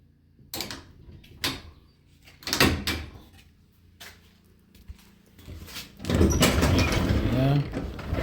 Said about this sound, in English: here's how you manually open your door, your garage door. Pull on this red string.